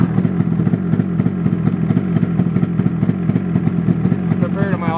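A 2003 Polaris RMK 700 snowmobile fitted with an SLP muffler runs at a steady idle, its engine a close, even, rapid pulsing chug that holds constant throughout.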